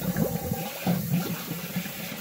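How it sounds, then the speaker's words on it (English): Water gurgles and rushes through a brew pump into a brewing kettle, a short, close burst of turbulent flow with bubbling as air is pushed out. "I'm going to turn on the water"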